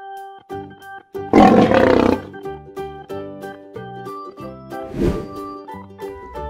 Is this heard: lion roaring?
yes